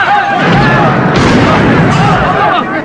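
A bomb blast at a hospital in a film scene: loud, sustained rumbling roar with sharp bursts, dense and close throughout, mixed with voices and shouting.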